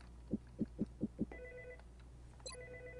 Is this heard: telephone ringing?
yes